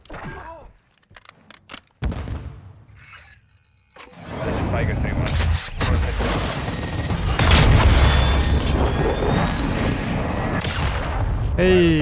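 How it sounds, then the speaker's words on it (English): A cruise missile killstreak in the shooter Modern Warfare 2 fires with a heavy thump and then a long roaring, rumbling rush that swells and holds for several seconds, with game voices talking beneath. "the cruise missile finally!"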